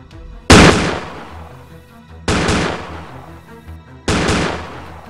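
Three heavy gunshot blasts spaced a couple of seconds apart, each a loud close boom with a decaying tail, as mercenaries shoot back in a tabletop campaign.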